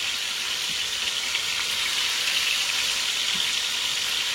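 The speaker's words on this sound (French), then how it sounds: "Tout ce qu'on veut, c'est les saisir légèrement pour que la viande soit plus vite en cuisson" Chicken meat sears in a hot pan, giving a steady, close, even sizzle and hiss that runs unbroken with no voices over it.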